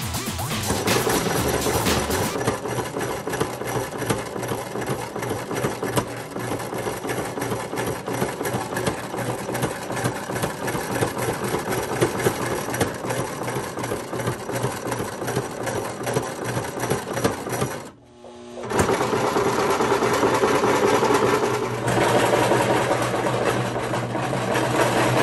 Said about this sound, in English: sewing the strap together